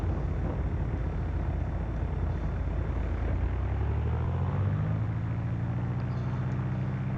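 Light aircraft taxiing on the ground at Locher Airfield in X-Plane 11, a steady engine drone with a rising, shifting tone as power changes, continuous and fairly close throughout, no talk.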